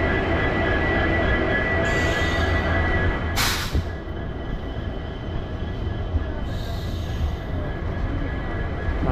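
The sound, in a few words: Uzhavan Express train running, heard from inside the carriage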